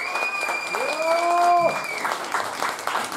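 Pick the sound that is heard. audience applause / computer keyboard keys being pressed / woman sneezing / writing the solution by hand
audience applause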